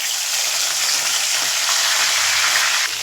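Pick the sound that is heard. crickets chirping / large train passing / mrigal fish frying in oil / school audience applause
mrigal fish frying in oil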